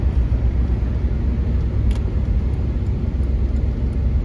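A Chevy Blazer with a 4L60E automatic transmission drives along with a steady, loud low rumble of engine and road noise, continuous throughout, with no voices.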